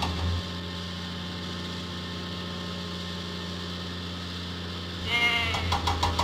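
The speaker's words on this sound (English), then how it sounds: "Help Cranky find the goats" Goats bleat in the Thomas and Friends Many Moods video game during a cargo delivery task. Synthetic bleats sit over a steady electronic hum, and a brighter burst of game sound rises near the end.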